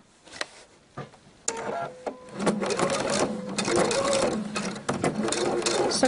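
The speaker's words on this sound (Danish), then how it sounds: "Så nu syr jeg for retsiden." A sewing machine stitches the band of an apron along its right side, running in loud, steady bursts with short pauses between runs, close by and mostly alone.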